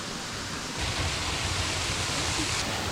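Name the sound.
waterfall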